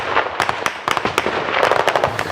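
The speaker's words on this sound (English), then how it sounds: "you can hear some of the explosions in the distance and not very far away from us" Repeated sharp blasts and cracks from trench warfare fighting in Donbas, a dense irregular volley of bangs ranging from distant thuds to nearer, louder pops over a rumbling outdoor background.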